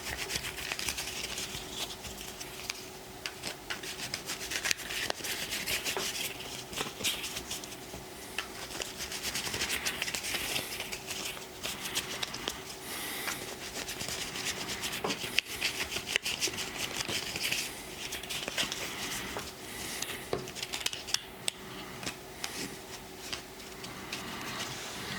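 Strawberry Shortcake Berry Besties Bake-Off game cards being shuffled by hand, soft continuous rubbing and riffling with light ticks, close and quiet with no talk.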